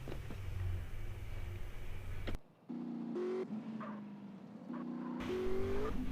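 A Lamborghini Aventador in the video game GTA San Andreas roars loudly, its engine note climbing and dropping through revs and gear changes as the car pulls away, with no talk over it.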